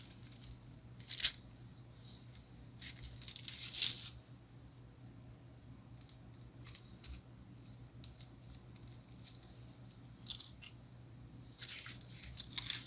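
Scissors snip off the ends of craft material being trimmed for fake donut hole decorations, a few short crisp cuts spaced apart over a quiet steady hum.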